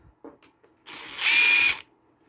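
A power tool whirs briefly on the sump bolts of a beaten-up lawnmower engine, a short close buzzing burst after a few light metallic clicks, with no talk.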